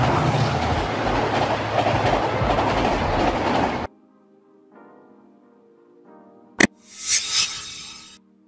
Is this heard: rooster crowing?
no